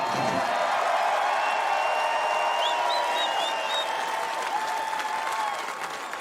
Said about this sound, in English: with the booing and all these people, you are ready for NHL hockey.